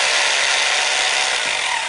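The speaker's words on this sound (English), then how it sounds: "So you just go ahead and drill through the concrete" A hammer drill bores into concrete for a pool slide bolt hole, a loud, steady, close grinding roar that runs throughout without a pause.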